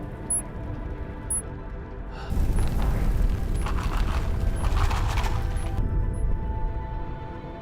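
A massive bomb blast erupts at a volcano on Mount Baekdu, a sudden loud roaring boom that swells into a sustained rumble after a quieter opening and gradually fades, with no talking.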